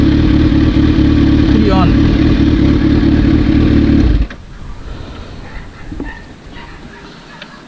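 Kawasaki Z H2 motorcycle engine idling loud and steady up close, then cutting off abruptly partway through, leaving quieter ambient sound and a brief voice.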